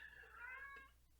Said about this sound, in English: the cat just meowed right in the mic